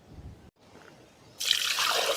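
Water pours in a steady, close stream after a brief quiet pause, splashing into a cauldron holding ribs.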